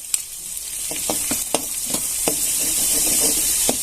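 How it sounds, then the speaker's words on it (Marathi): Besan roasting in oil with cumin in a pan for palak paneer, giving a soft continuous sizzle punctuated by several sharp spoon taps and scrapes, close by and without speech. "आपण इथे एक चमचा बेसन घालतोय ते पण चांगलं परतून घ्यायचे"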